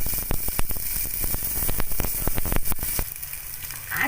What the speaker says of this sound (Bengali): তেজপাতাগুলো আর লঙ্কাটা ভাজা হয়ে গেছে, এর মধ্যে আমি আদা দিয়ে দিলাম